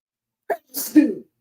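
A single sharp sneeze with a quick inhale before it, close and clear in an otherwise silent room.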